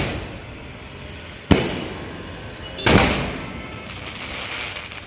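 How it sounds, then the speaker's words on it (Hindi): Firecrackers bursting during a street celebration in Mumbra: two sharp, loud cracks a little over a second apart, each trailing into a noisy crackling wash, over steady outdoor crowd noise. "आज जो हम लोग ने पटाखे फोड़े"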